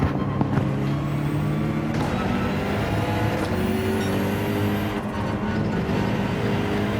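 BMW GT3 front-engine, rear-wheel-drive race car on a racetrack in Gran Turismo 7, its engine droning with clear tonal harmonics that climb and drop in pitch through shifts and corners.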